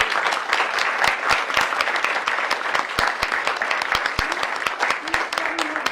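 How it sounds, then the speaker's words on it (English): A committee meeting audience bursts into dense, loud applause for a team of young women, many hands clapping rapidly and continuously with a few sharp individual claps standing out near the front. "We want to give you a round of applause."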